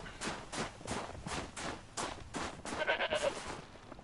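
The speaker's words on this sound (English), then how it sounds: "Get over here, you stupid sheep." Sheep in the video game Horizon Zero Dawn: The Frozen Wilds bleating repeatedly in a quick irregular series, faint and close, with no talk over it.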